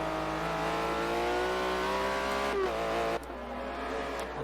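Onboard a GT3 race car on a track at Mugello during a WEC race weekend: a loud, steady engine drone rising in pitch under acceleration, then a brief drop and shift as it changes gear.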